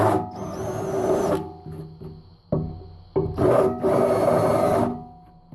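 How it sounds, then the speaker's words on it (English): A hand countersink deburrs a freshly drilled metal tab in a fabrication shop, giving rasping, grinding bursts of about a second each, separated by short pauses, loud and close. "I love these countersinks to hit it, deburr it."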